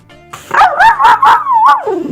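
A small rescued dog howls along to the song "Chervona Kalyna", a short run of wavering, pulsing yips rising into a sustained melodic howl, close and loud with no people talking.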